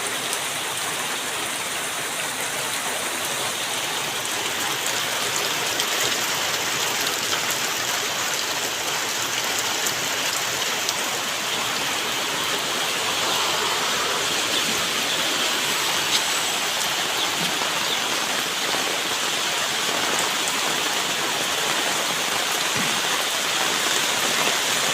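Torrential rain from a typhoon on Burias Island roars without pause, a thick, even wash of water noise that stays loud and close throughout.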